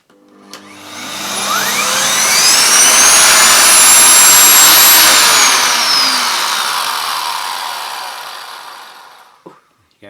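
A Hoover Sonix 2300 watt bagless vacuum cleaner with a turbo nozzle, run at maximum, soft-starts and ramps up into a loud, shrill whine. The roar holds steady, then winds down toward the end, with no talk over it.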